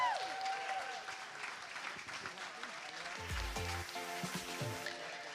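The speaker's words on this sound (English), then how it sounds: "And the crowd goes crazy when the auctioneer says sold." Applause from an auction crowd at a charity gala night, a burst of clapping and cheering in a large room, fairly faint and distant, with voices mixed in.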